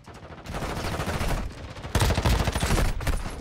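Rapid bursts of automatic gunfire in the mobile shooter Warzone Mobile, loud and close, with a brief lull near the middle before a denser volley resumes, no talking.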